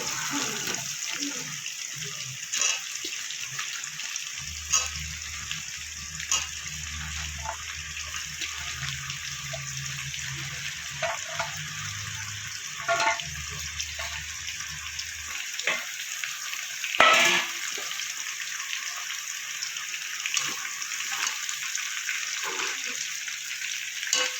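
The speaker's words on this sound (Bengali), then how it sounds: "আলুটা আমার কিছুটা ভাজা হয়ে গেছে, এবার আমি কেটে রাখা ঝিঙেগুলো দিয়ে দেবো।" Potatoes and ridge gourd fry in a pan with a steady soft sizzle and scattered crackles, while a low hum runs under part of it.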